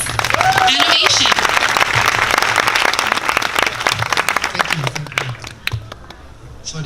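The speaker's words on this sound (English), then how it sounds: "give him a round of applause, guys" An audience at a job fair applauds a speaker, a loud, dense burst of clapping that gradually thins into scattered claps, with voices mixed in throughout.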